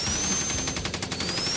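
Rapid automatic gunfire in a Sonic the Hedgehog cartoon set in a Squid Game-style contest, a dense continuous burst of loud shots with a faint high whine running through it.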